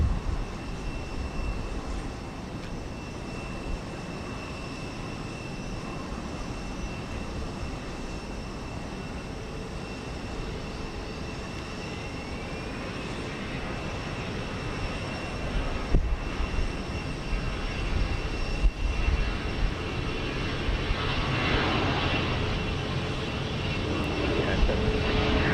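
Jet aircraft at George Bush Intercontinental Airport in Houston, a continuous broad engine roar that swells and rises toward the end, with faint tonal whines above it and occasional knocks, heard from a distance.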